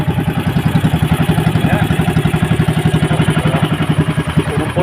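Diesel engine of a bangka, a Filipino outrigger boat carrying ice and diesel, running loud and close with a steady, rapid thumping chug throughout; a brief word is spoken over it.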